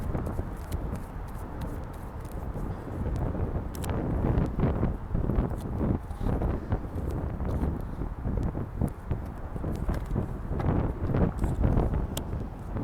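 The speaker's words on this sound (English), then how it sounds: "Goodness, this wind." Strong gusting wind batters the microphone outdoors, a loud, rough low rumble that swells and eases continuously with no clear pauses and no speech.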